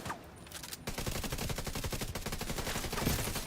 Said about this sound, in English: We're taking fire on the western perimeter.